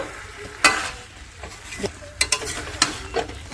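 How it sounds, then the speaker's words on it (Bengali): Fried potatoes are stirred into chicken curry in a pan, with sharp spoon scrapes and clatters in irregular bursts over a soft background sizzle, close and fairly loud, without speech. "আলুটা দিয়ে নিয়েছি দিয়ে ভালো করে একটু নাড়াচাড়া দিয়ে নেব"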